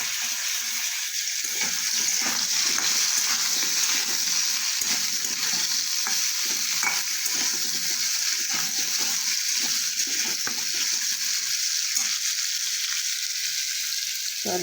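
Cubed potatoes frying in hot oil with fennel seeds, turmeric and salt in a Bengali kitchen, with a steady, loud, close sizzle and occasional stirring scrapes throughout, no talking.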